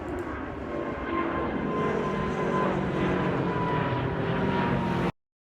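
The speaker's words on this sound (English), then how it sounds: "The next plane to take off was also going to Ho Chi Minh City." A jet airliner bound for Ho Chi Minh City takes off at Tullamarine airport, its engines making a steady, loud roar with whining tones, held throughout before an abrupt cut to silence.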